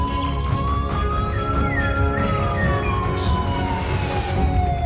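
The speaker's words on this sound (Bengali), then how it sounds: "বাবা, ওটা কিসের শব্দ? সাইরেনের মতো শোনা যাচ্ছে না।" A siren rises and falls steadily in an animated Bengali cartoon about a stormy night, where the sound comes from an approaching rescue boat. It wails continuously and loudly over a dense rumbling background, with no voices.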